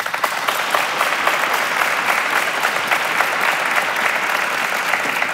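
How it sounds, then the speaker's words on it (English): Sustained audience applause during a question and answer period on a business talk show, dense steady clapping from a crowd filling the whole stretch without a break. "You are the first guest in the history of Business of Life to get applause during the question and answer period"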